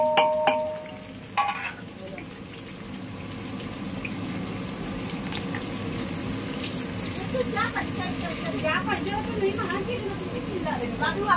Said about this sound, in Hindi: कांदा फ्राई हो रहा है